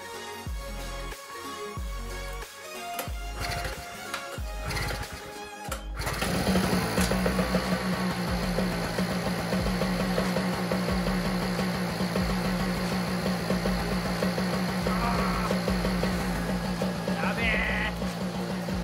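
A two-stroke generator engine running indoors after a carburetor problem, sputtering and uneven at first, then catching into a loud, steady, buzzing drone that fills the room close by.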